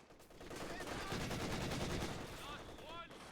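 ZiS gun firing in the Company of Heroes 2 strategy game amid a dense battle, a sustained rattle of gunfire and explosions at moderate volume, with a voice talking over it.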